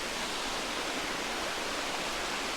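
The Holden Clough waterfall gives a steady, full hiss of rushing water, loud and unbroken, with no voices over it.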